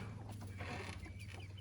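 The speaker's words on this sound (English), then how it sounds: "That's our one rooster." Hens clucking steadily at a farm coop, with the flock's single rooster among them over a constant low hum, no voices.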